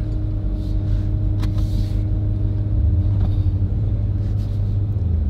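Jeep Trackhawk accelerating hard, a loud steady low engine roar that swells and holds close throughout with no talk.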